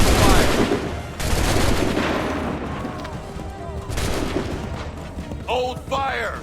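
Musket volleys crack in an Assassin's Creed 3 cutscene, loud and close, followed by rolling booms and battle noise, with voices shouting near the end.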